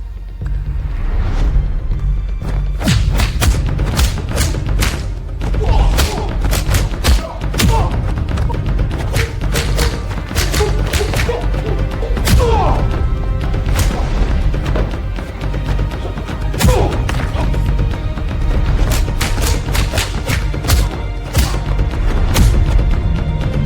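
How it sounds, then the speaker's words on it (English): Martial arts fight scene impacts from a fight reel, with a dense run of loud thumps, hits and whooshes under a continuous heavy low rumble and score, the blows coming in quick irregular clusters. "this guy knows how to do martial arts fight scenes"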